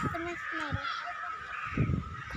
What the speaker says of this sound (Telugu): కాకులు బీభత్సంగా అరుస్తున్నాయి